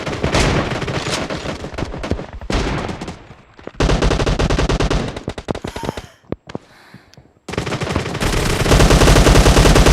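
Rapid bursts of automatic gunfire from a team-based shooter video game, loud and dense, broken by short lulls and scattered single shots before a final sustained volley.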